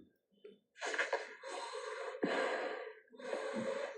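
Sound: heavy breathing

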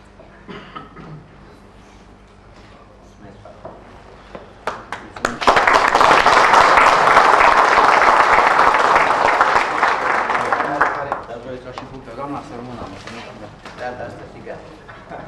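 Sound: audience applause at a local council meeting

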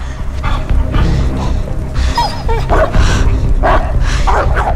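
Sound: dog barking in the Beyond Two Souls video game

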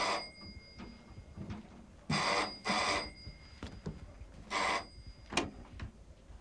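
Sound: telephone ringing

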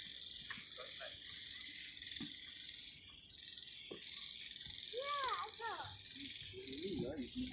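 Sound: frog croaking at night in a park

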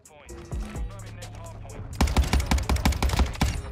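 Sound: Cronen Squall rifle gunfire in the video game MW2

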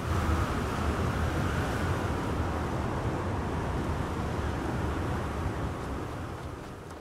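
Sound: wind blowing in the video game Star Wars Outlaws

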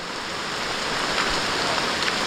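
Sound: light drizzling rain

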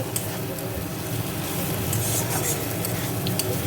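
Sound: stirring jackfruit curry spice mixture in oily pan

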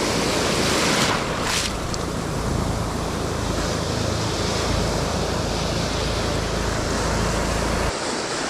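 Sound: ocean waves on a reef

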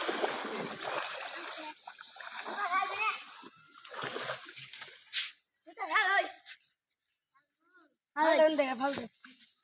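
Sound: child splashing in rainwater

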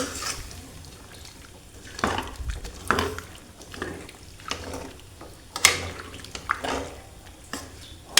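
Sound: stirring vegetables in a pot

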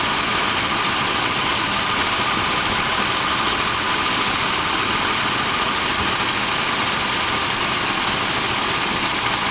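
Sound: car engine idling with AC on

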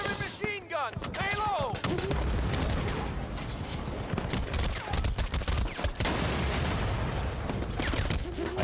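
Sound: gunfire in video game Battlefield Bad Company

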